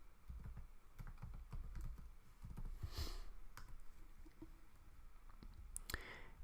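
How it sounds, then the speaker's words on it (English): Quick bursts of computer keyboard typing, soft close clicks in short irregular runs with brief pauses, fairly quiet against a low room hum, no talking. "So I will just type WordPress."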